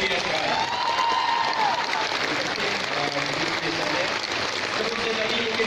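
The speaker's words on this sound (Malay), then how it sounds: "saya mohon untuk kita berdiri dan berikan tepukan" A seated audience at a talk bursts into sustained applause, dense clapping from many hands heard close and loud throughout, with voices talking over it.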